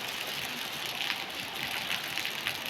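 Heavy rain pours down steadily during a thunderstorm with strong wind in a rural roadside area among trees and bamboo clumps, a dense, even rushing hiss heard close and without speech.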